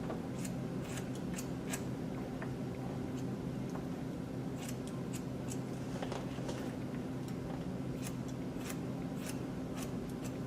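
Scissors trim a beard in quick, irregular snips close to the mic, with crisp metallic clicks repeating over a soft continuous hiss.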